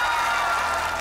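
Studio television audience applauding, a dense steady wash of clapping filling the whole short moment at close, even loudness.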